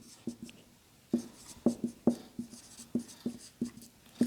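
Chalk or marker writing on a classroom board during a biology lesson: a run of quick, close taps and strokes at an uneven rhythm, each a short tick, with no talking.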